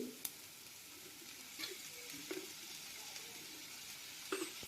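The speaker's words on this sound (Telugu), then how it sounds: "ఇవన్నీ వేసుకున్నాక హై ఫ్లేమ్లో బాగా కలపాలి." Egg fried rice with green chilli sauce and vinegar is stirred in a pan over high flame, producing a soft, continuous sizzle broken by a few light scrapes and clicks of the spatula.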